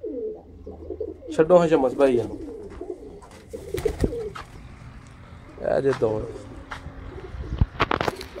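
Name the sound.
pigeons cooing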